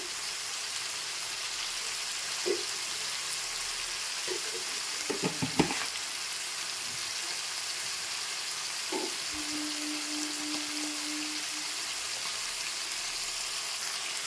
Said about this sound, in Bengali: তো দেখো লবণ আর হলুদটা দিয়ে দিলাম কিন্তু চিকেনগুলো ভালো করে ভেজে নেব